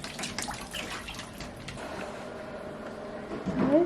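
Water splashing and trickling at a children's outdoor water table, soft irregular sloshes and drips close by in a quiet yard, growing a little louder toward the end.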